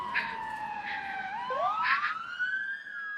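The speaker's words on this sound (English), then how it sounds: "Karena, I can hear the sirens now." Several wailing police sirens rise and fall and overlap, growing slightly louder as they approach, with no talking.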